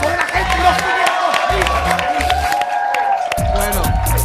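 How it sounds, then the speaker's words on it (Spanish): Lively crowd applause and cheering for a performer, clapping and whoops mixed with loud music and crowd noise throughout, fairly close and energetic. "Se ganó el aplauso de la gente"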